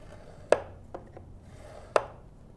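Scoring a sheet of patterned floral paper on a scoring board, heard as two sharp, crisp strokes about a second and a half apart against a quiet background.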